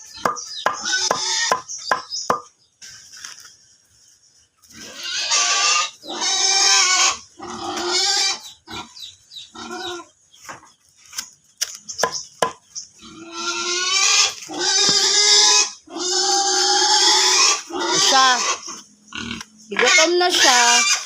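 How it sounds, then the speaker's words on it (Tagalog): A pig on a farm at feeding time grunts and oinks in repeated loud, close bursts with short pauses between them, while a person talks over and between the calls. "Ikit na akong baboy"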